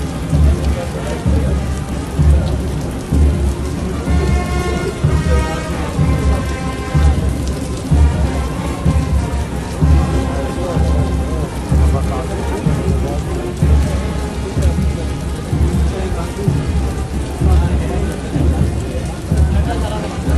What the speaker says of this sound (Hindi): मुनीर की वीडियो बहुत ज्यादा वायरल हो रही है, जिसमें वो पासिंग आउट परेड में हिस्सा ले रहे हैं और उस वक्त ले रहे हैं जब बारिश फुल हो रही है।